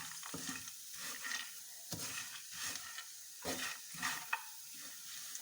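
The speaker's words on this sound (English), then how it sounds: "let's add our roasted dry fruits. Now give a good stir." Roasted dry fruits stirred in a pan over low to medium flame, with repeated scraping strokes and soft rattling at an irregular rhythm over a faint steady sizzle, close and alone.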